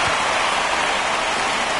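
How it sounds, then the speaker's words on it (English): Steady, dense rain pours over a baseball field in MLB The Show 25, a loud, unbroken wash of hiss with no voices or other sounds. "the field's not going to be able to hold up if the rain gets any worse than this"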